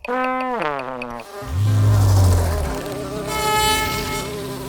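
Cartoon bee buzzing, a loud sustained drone that swells and wavers in pitch after a brief high musical tone, with a bright whine rising near the end.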